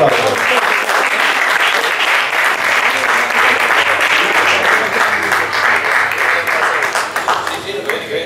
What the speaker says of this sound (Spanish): Por favor, fuerte aplauso.